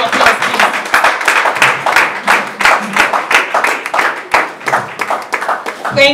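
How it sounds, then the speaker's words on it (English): An audience at a Magboro Area CDC award ceremony claps steadily for the full stretch, a dense patter of many hands with individual sharp claps standing out. "Can we give them a round of applause, please?"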